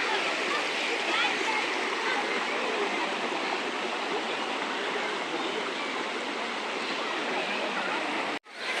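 A waterfall in the hills near Srivilliputhur roars as a constant broad rush of falling water, loud and close, filling the whole span before cutting off abruptly at the end.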